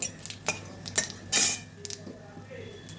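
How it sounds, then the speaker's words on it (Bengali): White cumin tempering is stirred in a pan, a spoon scraping and clinking against metal in quick irregular strokes, close and fairly loud over a faint background sizzle. "এবার ফোড়নটাকে আমি নেড়ে চেড়ে একটু ভেজে নিচ্ছি।"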